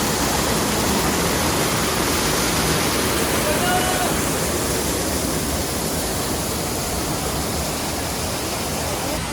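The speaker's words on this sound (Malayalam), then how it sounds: "yes, this is the Chilanthiyar waterfall" Chilanthiyar waterfall deep in a forest gives a loud, unbroken rushing roar of falling water, steady and close throughout with no pauses.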